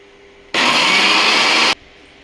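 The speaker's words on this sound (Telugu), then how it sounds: "ఇదైతే ఇప్పుడు మిక్సీలో వేసి గ్రైండ్ చేయాలి" A mixer grinder whirs loudly as it grinds soaked chana dal, a single steady burst of about a second, starting and stopping abruptly.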